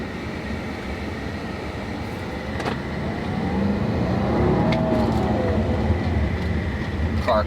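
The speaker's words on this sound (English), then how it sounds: "Car kicks, purrs, sounds amazing." A 2008 BMW 650i with a manual gearbox and V8 engine is driven, its smooth engine hum and road noise holding steady, then rising and swelling as it pulls along.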